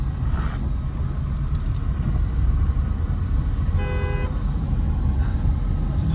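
A car engine rumbles steadily as the car accelerates slowly in first and second gear through traffic during a driving lesson, with a short vehicle horn toot partway through.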